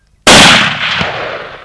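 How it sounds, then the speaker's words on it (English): A single loud rifle shot cracks out during a hunt in South Africa, sharp and sudden, then rolls away in a long decaying echo across open country. "is a good one you can shoot it"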